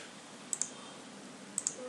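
Mouse clicks while downloading a Windows 8 app-data backup on a computer: two quick pairs of sharp, close clicks spaced about a second apart over faint room hiss.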